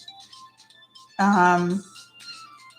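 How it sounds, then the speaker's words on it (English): A phone rings with a single loud, bright electronic tone of about half a second, close by, between quieter stretches of room sound and faint murmuring. "my dang phone is ringing again"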